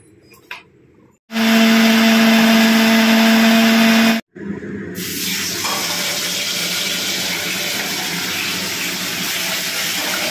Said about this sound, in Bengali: এখন আমি টমেটো পেস্ট করতে চলে এসেছি